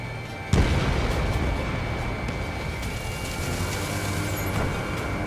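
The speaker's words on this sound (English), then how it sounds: "Target acquired. Missile away." A missile fires from a fighter jet in Ace Combat 7 with a sharp launch burst, then a steady roaring whoosh of engine and rocket noise that slowly fades.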